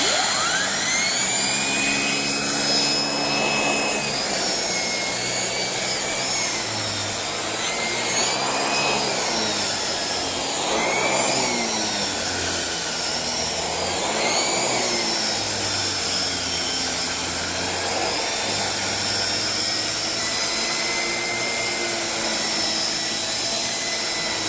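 Shark Rotator Speed Lift-Away vacuum cleaner from 2018 runs continuously on an ottoman and carpet with a loud, steady motor whine and shifting pitch as the brush moves over the surfaces.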